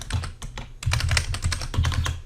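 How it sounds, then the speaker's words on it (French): Quick, close clatter of keystrokes on a computer keyboard as a word is typed, irregular bursts of clicks over a steady low hum. "on va venir écrire par exemple bonjour"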